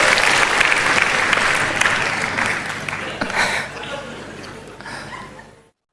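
An audience at a youth speech event claps loudly for the guests of honour, a dense burst of applause with a few chuckles that gradually fades out.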